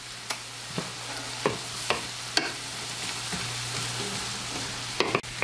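Garlic, onions and celery with thyme hit a hot pan for an oyster dressing, giving a steady close sizzle with a low hum beneath and a series of sharp clicks and scrapes from stirring spaced through it.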